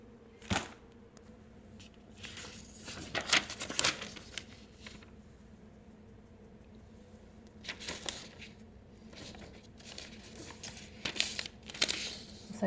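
Warranty paper crinkles and rustles in irregular bursts while a De'Longhi Dedica EC680M stainless steel espresso machine is unboxed, close and moderately loud with quiet gaps between handlings.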